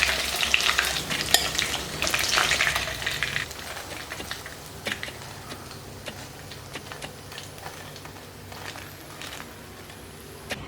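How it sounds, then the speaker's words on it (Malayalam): Chicken pieces fry in hot oil until golden brown for restaurant-style chilli chicken, giving a close, steady crackling sizzle with scattered sharp pops and occasional clicks, louder at first and then settling, with no voices. "നല്ല ഗോൾഡൻ ബ്രൗൺ കളറിൽ ചിക്കൻ ഫ്രൈ ആയിട്ടുണ്ട്"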